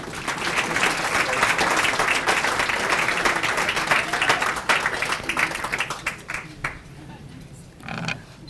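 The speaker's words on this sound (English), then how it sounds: "Please give Nancy a nice round of applause." An audience at an awards ceremony gives a warm round of applause, a full sustained burst of clapping that thins out into scattered claps, with a few voices murmuring near the end.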